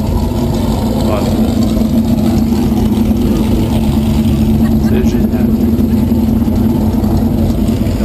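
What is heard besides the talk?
classic Aston Martin racing car engine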